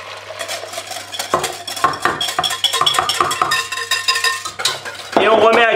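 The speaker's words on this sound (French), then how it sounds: "on mélange bien comme il faut" A utensil stirs pastry cream in a saucepan for mini Tropézienne pastries, giving quick scraping and clinking strokes against the metal, close and steady, with a brief louder scrape at the end.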